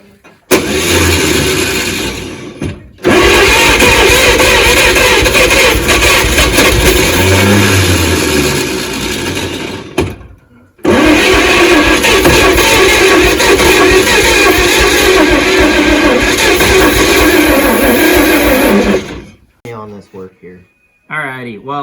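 A 1938 Chevrolet Master Deluxe engine, revived after sitting for decades, cranks and catches, runs loud and rough for a few seconds, cuts out, then starts again and runs steadily before shutting off near the end.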